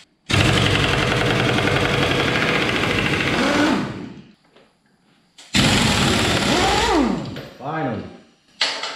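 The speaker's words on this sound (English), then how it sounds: "now to get this off, 17 mil on both of them and an impact driver." Air-powered impact driver undoing the 17 mm transmission nuts on a SYM Symphony ST 200 scooter, heard as two loud sustained rattling bursts with a short pause between, close by.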